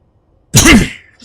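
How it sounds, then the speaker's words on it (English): A single close, loud cough burst into the microphone, sharp and breathy with a brief voiced tail, then quiet. "Don't mean to cough in your ear."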